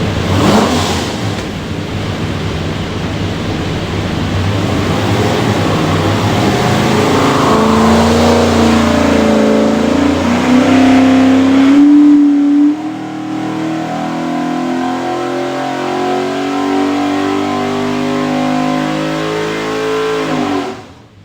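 A stack-injected 427 Ford V8 roars loudly on a dyno, climbing in pitch through a long hard pull, then dropping off and winding down near the end.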